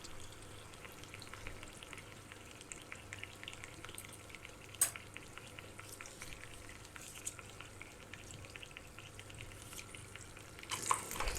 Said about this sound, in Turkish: Şimdi biraz daha arkayı pişirdikten sonra bunu da artık alabiliriz ocaktan.